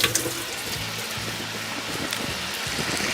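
Hands are washed under a running kitchen tap while food fries. Water pours steadily with splashy fluctuations, and there is no talk.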